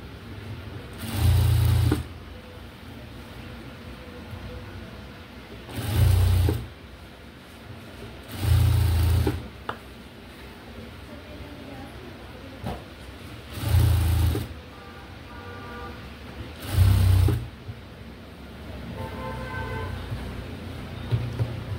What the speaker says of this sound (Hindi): सिलाई लगा रहा हूँ बेल्ट की।